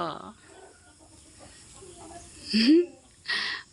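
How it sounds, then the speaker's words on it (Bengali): Chickens squabble in a farmyard, letting out sharp, rising squawks and clucks in a few loud bursts near the end, alongside a voice. "মুরগিতে মারামারি শুরু করে দিছে"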